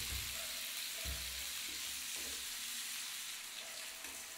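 Papaya and potato curry fries in oil in a pan with a steady, dense sizzle throughout, while a few soft low thumps of stirring or added water break in near the start.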